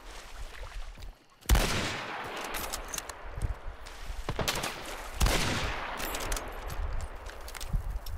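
Gunfire in the Hunt: Showdown video game, two loud sharp shots a few seconds apart, each followed by a lingering echo, with scattered smaller pops, rustles and footsteps in between.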